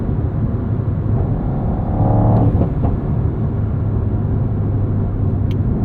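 A 2024 Mercedes-AMG GT 63 held in third gear and accelerating out of a corner gives a loud, close, rumbling engine roar that swells briefly midway, then settles into a steady heavy drone.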